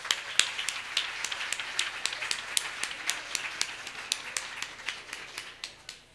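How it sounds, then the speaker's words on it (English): Sparse, rhythmic claps from a small group at a United Way school-bus fundraiser, crisp individual hand claps spaced evenly for several seconds in a quiet room. "So please give yourselves a round of applause."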